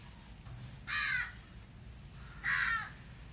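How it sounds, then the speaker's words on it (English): A crow caws twice, two loud, harsh calls about a second and a half apart, standing out clearly over a faint outdoor background hum. "that was just a confirmation by the crow."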